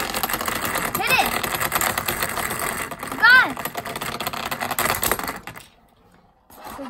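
A Beyblade spinning top in a toy unboxing, set loose and whirring with a fast metallic rattle and scraping against its arena, alongside rising sweep sounds, while people talk and exclaim, then a near-silent pause.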